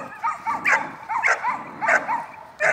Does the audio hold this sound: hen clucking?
no